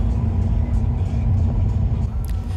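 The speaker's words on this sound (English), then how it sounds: "You can hear just how loud it got in the car, because, well, it's a stone paved road." Steady loud rumble inside a car rolling over an old stone paved road, the cabin filled with constant low tire drone and vibration throughout, no voices over it.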